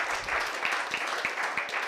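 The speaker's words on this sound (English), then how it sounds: "Give a round of applause" Brief burst of audience applause at an AI innovation challenge pitch event: a steady, close wash of many hands clapping, with no break for its whole length.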